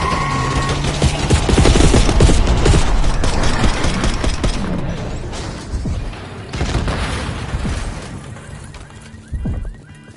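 Loud, dense gunfire in Black Ops 6 as a limo drives down a street: sustained automatic bursts and booming shots packed together, close and intense, easing into separated blasts toward the end.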